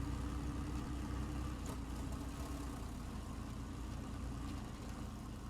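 A diesel truck engine idles in the off-road driving game SnowRunner, hauling a very long log trailer, with a steady low rumble that holds constant throughout and has no talk over it.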